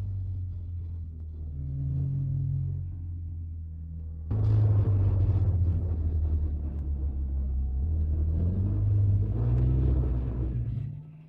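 Car driving along, heard as a low rumbling engine that swells sharply about a third of the way in and then holds a loud steady drone with shifting pitch before cutting off; no talk.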